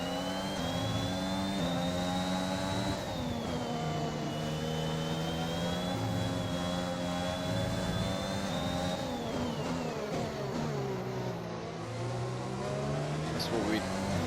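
Honda-powered Formula 1 car engine in the racing game F1 2021 at Bahrain, a steady high-pitched whine with pitch sweeps as it shifts and slows, under a player's talk.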